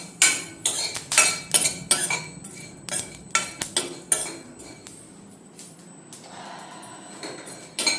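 Spices are dry roasted in a pan, stirred with a utensil that strikes the metal in a quick rhythmic series of close, bright clinks and scrapes, which thin out to a few softer knocks.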